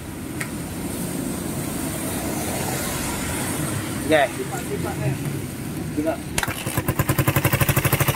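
A 2008 motorcycle with a rattling, knocking fault is started up: a quiet stretch with a brief voice, a short starter burst, then the engine catches into a rapid, pulsing idle close by.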